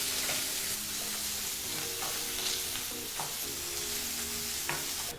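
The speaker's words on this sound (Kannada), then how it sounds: "ಜೊತೆಗೆ ಸ್ವಲ್ಪ ಕರಿಬೇವಿನ ಸೊಪ್ಪು ಮತ್ತು ಈ ರೀತಿ ಬಹಳ ಚಿಕ್ಕದಾಗಿ ಕಟ್ ಮಾಡಿದಂಥ ಒಂದು ಈರುಳ್ಳಿನೂ ಸಹ ಹಾಕಿ 2 ರಿಂದ 3 ನಿಮಿಷಗಳ ಕಾಲ ಮೀಡಿಯಂ ಫ್ಲೇಮ್ನಲ್ಲೇ ಇದನ್ನೆಲ್ಲ ಫ್ರೈ ಮಾಡ್ಕೋಬೇಕಾಗತ್ತೆ" Onion, asafoetida and curry leaves frying over a medium flame in a pan, a steady close sizzle that runs unbroken throughout with faint scraping stirs.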